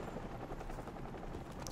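Helicopter in the video game Call of Duty: Modern Warfare Remastered, a steady loud rotor thrum with dense low chopping, blended with faint gunfire-like crackle throughout, no talk.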